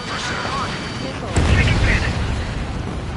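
A missile explosion in the Ace Combat air combat game lands as a sudden heavy boom over the roar of jet engines, then settles into a rumbling wash, with voices talking over the radio.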